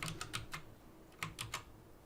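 Keys clack on a computer keyboard in a quick, light burst of about eight strokes, close and quiet, with a short pause midway and no voices.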